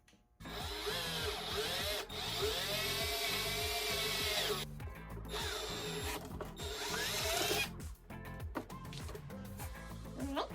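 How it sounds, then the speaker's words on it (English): A power drill bores a hole for a grommet during a jet ski motor swap, loud and close, whining in long continuous runs that rise and fall in pitch, with brief pauses between passes. "I gotta drill out a spot to put this grommet for the return"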